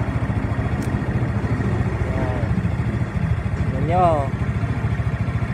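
A motorcycle engine, overhauled two months earlier and just repaired for a leaking hose, idles steadily with a low throbbing pulse close by, while someone talks over it throughout.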